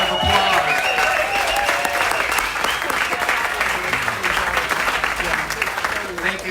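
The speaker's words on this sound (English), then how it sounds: "A round of applause." Storytelling festival audience applauding the sound booth crew, a dense sustained round of clapping from a crowd, with voices and cheers mixed in before it tapers.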